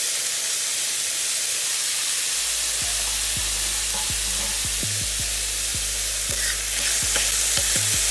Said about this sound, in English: I'm gonna let it cook some. It's gonna make the gravy taste even better.